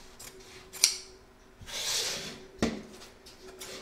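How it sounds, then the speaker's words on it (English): Scissors snip through excess embroidery fabric in a hoop, with two crisp close cuts and a soft sliding rustle of blades and material between them. "I'm just going to trim this off just so there's not too much excess."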